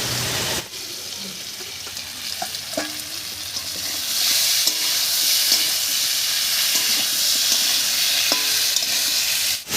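Papaya and potato pieces sizzle and fry steadily in a pan while a utensil scrapes and stirs, with occasional clinks against the metal.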